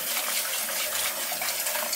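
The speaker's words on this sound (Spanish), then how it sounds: "lo primero que vamos a hacer es enjuagarlo, si pueden, con agua tibia" Warm tap water gushes into and around a small jug being rinsed for beer-brewing equipment cleaning, a close, steady splashing wash with slight fluctuations and no speech.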